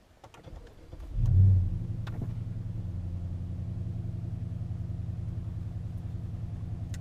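A Dodge Charger's engine cranks and catches with a loud low surge, then settles into a steady, continuous idle rumble that holds evenly to the end.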